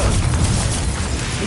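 A Confringo blasting curse explodes in Hogwarts Legacy, a short, loud, dense blast of crackling burst noise that stays at full strength for its whole length, with no voices.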